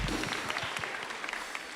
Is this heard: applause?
yes